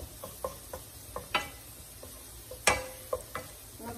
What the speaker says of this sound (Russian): капельку масла и один зубок крупный чеснока я положила. Сейчас он обжарится.